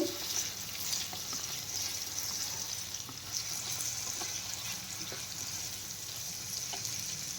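Quiet sizzling in a pan with occasional soft stirring scrapes, close by and fairly low in level, no one talking.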